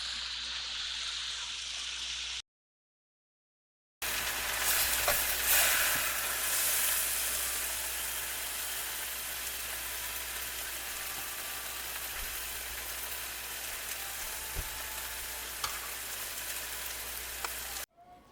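Hoisin tofu stir-fry sizzles in a hot pan, a broad, steady hiss with faint stirring clicks running close and continuous after a brief cut to silence.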